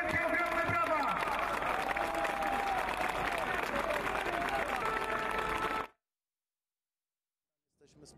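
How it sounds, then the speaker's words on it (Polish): A crowd at the 2021 Independence March in Poland claps and cheers outdoors for soldiers and police: a loud, continuous wash of applause with voices and shouting mixed in, cutting abruptly to silence before a faint sound at the end. "Wielkie brawa dla nich"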